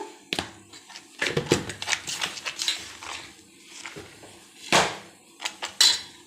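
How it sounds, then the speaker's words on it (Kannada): A spoon mixes spices in a bowl for baby corn Manchurian batter, making a close series of irregular metallic clinks and scrapes against the bowl's sides. Sharper taps come near the middle and the end. "ಸೊ ಇದನ್ನೆಲ್ಲ ನಾವು ಮಿಕ್ಸ್ ಮಾಡ್ಕೊಳ್ಳೋಣ."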